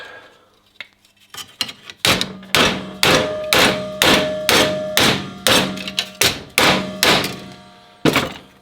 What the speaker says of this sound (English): tempted to hammer that flat